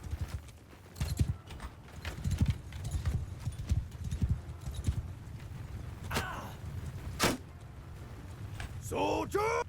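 Horsemen galloping in Mount & Blade II: Bannerlord, a steady clatter of hooves through the clip with a horse whinny near the end, mixed with battle noise and voices.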